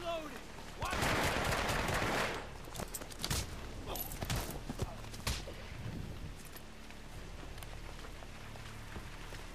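Gunfire during combat in the video game Hitman: Absolution, a rapid burst of shots followed by scattered single cracks and clatter, with a voice talking at times over a rain-like background.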